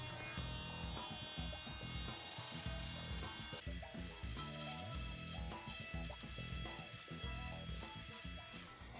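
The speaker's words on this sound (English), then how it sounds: "Grab that handy dandy little oscillating tool again and start cutting along the line" An oscillating multi-tool cuts along a line across a wooden door jamb on a sagging door, giving a close, continuous buzzing rasp with grinding fluctuations and brief changes in load.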